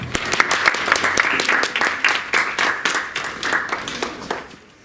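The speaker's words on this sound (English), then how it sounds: "A great applause for him." Sustained clapping from a crowd at a school public speaking contest, dense and lively, with sharp individual claps standing out, fading off toward the end.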